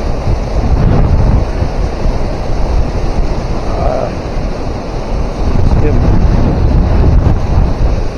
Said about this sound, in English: Blasted by the wind